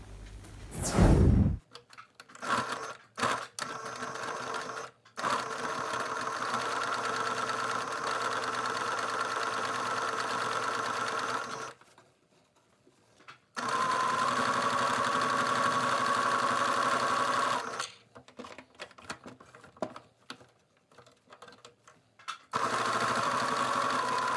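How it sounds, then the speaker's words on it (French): Sewing machine stitching around fabric for a child's glasses case, running in long steady whirring bursts separated by brief pauses and a few short stop-start runs. "Et on va venir coudre tout autour, comme ceci."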